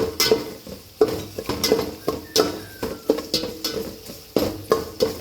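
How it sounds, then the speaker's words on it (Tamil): Chopped onions and green chilies fry in a pot for kuska biryani while a metal spoon stirs them, giving rhythmic scraping clanks against the pot over a soft sizzle. "வெங்காயத்தை நல்லா நறுக்கி போட்டு பொன்னிறமாக வறுக்கணும்"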